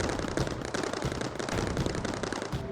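Turrets firing in the Mindustry video game, a dense, continuous rattle of rapid shots that stays loud and steady throughout with no pauses.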